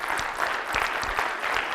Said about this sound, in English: I just want to give another round of applause for the sponsors